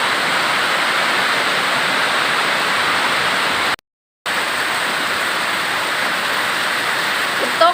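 Dense, steady hiss of heavy storm rain pours down, briefly cutting out to silence midway before resuming just as strong.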